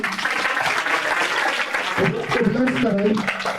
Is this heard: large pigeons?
no